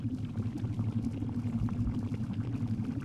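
In the MythBusters video game, water is poured in a steady, fairly quiet stream, a continuous gurgling pour with a low hum beneath it and no talking.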